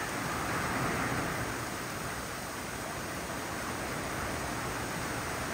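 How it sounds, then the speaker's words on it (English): Heavy rain pours down steadily outdoors, a dense, even hiss of water with no pauses and no voices. "thank goodness we finally got some rain. It is absolutely pouring now."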